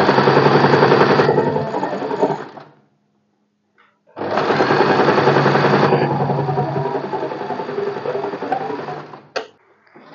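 A sewing machine stitches a blouse strip in two long bursts of rapid, even needle clatter, the first stopping with a short pause before the second run, which ends in a brief final whir.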